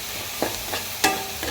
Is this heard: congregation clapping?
no